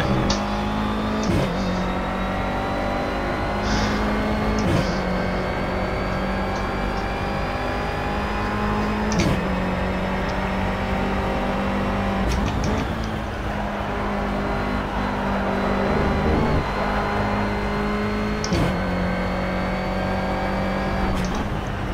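A race car in the video game Project CARS drives continuously with a loud, steady engine drone that rises and drops through repeated gear shifts, with no talk.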